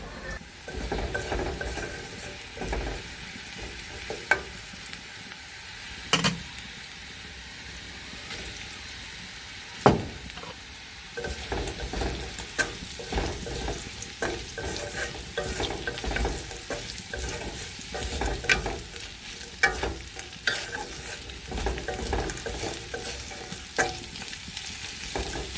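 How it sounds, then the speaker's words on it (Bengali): Fish fries in a pan while being turned over: a continuous crackling sizzle broken by frequent sharp clacks and scrapes of a utensil against the pan. "মাছগুলো ভালো করে আমি উল্টায় পাল্টায় দিচ্ছি"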